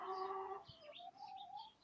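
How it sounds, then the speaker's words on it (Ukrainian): Sparrows chirp in a sunny village yard, their small, bright calls layered at moderate distance, with a cooing dove-like note at the start. "Горобці весело співають."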